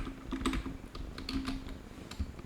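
Computer keyboard typing HTML code, with irregular clusters of close, crisp key clicks at a steady working pace and no talking.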